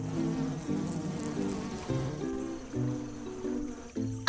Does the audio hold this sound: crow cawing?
no